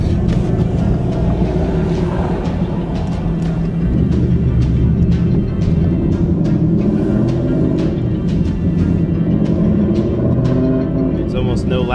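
A 2019 Mustang GT with 1 7/8-inch long tube headers and a Solo Performance exhaust cruising gently, heard from inside the cabin as a steady low engine drone and road rumble under talk, with no hard acceleration.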